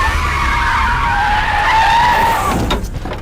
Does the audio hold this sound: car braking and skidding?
yes